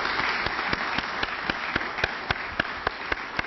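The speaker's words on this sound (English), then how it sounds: "I'd like to offer a round of applause to our panel here" A small audience applauds a panel after a discussion, hand claps ringing out in a steady patter at moderate distance.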